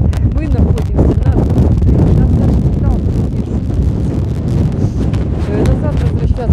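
Strong storm wind batters a boat in an anchorage amid squalls of rain and snow, a loud, continuous roar and buffeting across the microphone with bursts of gusting noise throughout.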